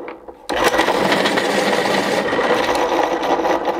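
A pencil sharpener shaves a Museum Aquarelle pencil from a stubby factory point to a long point; after a quiet start it bursts into a close, steady grinding whir that runs continuously without speech.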